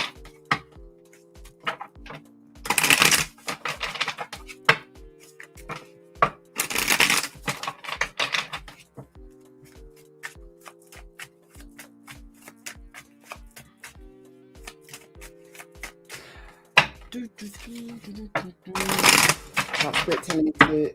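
Repeated crisp tarot card shuffles come in bursts among light tapping and handling sounds, with soft background music running underneath.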